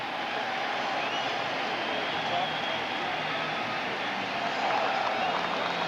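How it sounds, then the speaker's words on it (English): A stadium crowd at a Red Sox playoff game against the Angels roars after a David Ortiz double, a dense, steady wash of cheering that holds throughout with a slight swell near the end. "And that wakes the crowd up."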